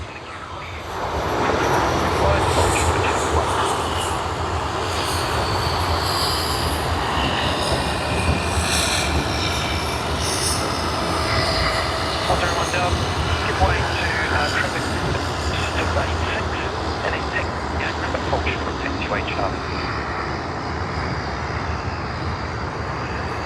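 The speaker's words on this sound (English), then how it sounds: "The aircraft taxiing to runway 16L. I'll just be quiet. Let's listen to the engine sound." Steady, loud jet engine roar from an airliner taxiing to runway 16L at Sydney Airport, a continuous broad rumble and whine holding level for the whole stretch with no talking over it.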